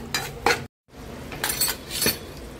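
Spoon scraping and clinking in a pan while dry fruit powder lightly roasts in ghee for rava laddoos, a few separate stirring scrapes with a short silent gap, near and moderately loud.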